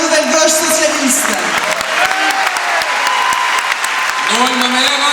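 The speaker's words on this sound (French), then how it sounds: "Je vous demande d'applaudir Lee Wang-ok" A political rally crowd in Montpellier bursts into loud, sustained applause, with shouting and voices rising over the dense clapping throughout.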